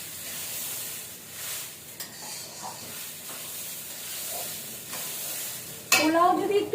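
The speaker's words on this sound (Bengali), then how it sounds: "খেয়াল রাখতে হবে চালটা যেন বেশি ভাজা না হয়ে যায়" Raw rice frying in a pan for cauliflower pulao, a soft continuous sizzle with light stirring scrapes, building to a louder hiss and clatter of stirring at the end.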